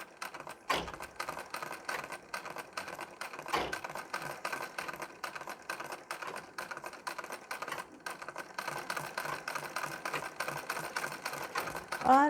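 Sewing machine stitching a blouse at slow speed, a continuous fast rattling whir with a few brief pauses and louder thumps, close and fairly quiet, with occasional faint voice in the background.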